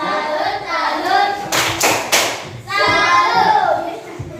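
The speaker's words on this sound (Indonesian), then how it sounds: "Yang ketiga kita tepuk tangan dulu untuk kelompok 1 dulu." A classroom group claps for group 1 during a student teaching session, with a short burst of a few sharp claps between stretches of speech from children and adults.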